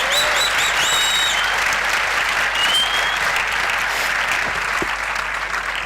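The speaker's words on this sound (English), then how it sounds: "So please give a big hand for the Palestinian people." A conference audience gives loud, sustained applause for the Palestinian people, a thick, even roar of many hands clapping from start to finish with no talking.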